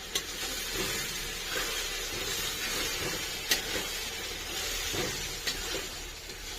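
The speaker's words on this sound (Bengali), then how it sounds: "মশলাটা খুব ভালো করে কষে নেবো" Masala frying in a pan for mutton curry, a steady loud sizzle with occasional scraping knocks as it is stirred.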